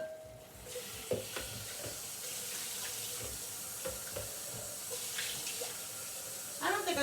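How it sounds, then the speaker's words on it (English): Water runs steadily from a kitchen tap during home cooking with pasta, a continuous close hiss and splash with a few clinks of cookware, and a faint sizzle may sit beneath it. "So I'm going to put a little bit of water"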